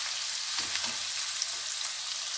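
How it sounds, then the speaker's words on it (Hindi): Chicken frying in a pan with garlic, heard as a steady, close, hissing sizzle with a few faint pops, even and unbroken throughout, with no one speaking. "फिर इसमें चिकन डाल देंगे।"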